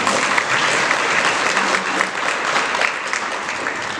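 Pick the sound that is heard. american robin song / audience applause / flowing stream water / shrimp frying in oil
audience applause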